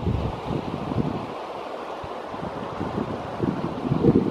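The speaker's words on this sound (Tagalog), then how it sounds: "Dito mabilis ang agos ng tubig." Fast-flowing stream water rushing near the trail to Troll Falls, a steady broadband wash with gusty surges and occasional close splashing bursts, fairly loud and continuous with no talking.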